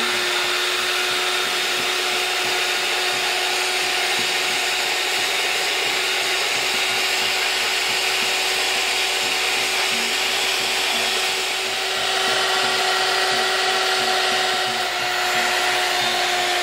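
A steady electric mixer whirs continuously while whipping angel food cake batter, a constant motor hum with a faint rhythmic scraping of beaters in the bowl, rising slightly in tone toward the end.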